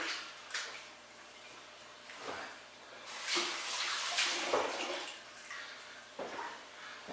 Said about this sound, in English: Wash my hands here real quick, get some of that butter off before we get started